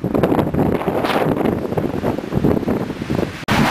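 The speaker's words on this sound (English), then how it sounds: "It's a little windy." Wind buffets the microphone outdoors, making a loud, continuous rumbling roar with gusty surges throughout and a brief dropout near the end.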